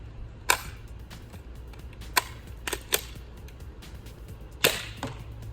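A Nerf Rival Knockout XX-100 blaster fires during a chronograph test, giving about six sharp snapping shots spaced irregularly over a few seconds above a low hum, with no talk.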